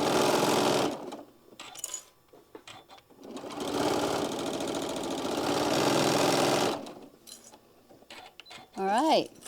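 Sewing machine stitching a drawstring bag, running in a long steady burst in the middle with shorter starts before and after, close and loud; a voice speaks briefly around the stitching.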